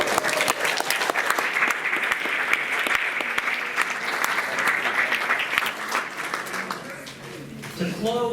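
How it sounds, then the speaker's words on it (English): A banquet crowd at a Hall of Fame dinner gives sustained applause for the '96 softball team, a thick, even wash of clapping held for several seconds before thinning out, with a few voices surfacing near the end. "'96 softball team. Please give a round of applause."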